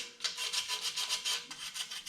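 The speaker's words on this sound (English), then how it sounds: "sanding off most of the rust fix, other than what's just in the pits" Steady rhythmic rasping of sandpaper scrubbing rust fix off a 1951 Chevy steel front bumper, back-and-forth strokes repeating about every quarter second, close and fairly even in loudness.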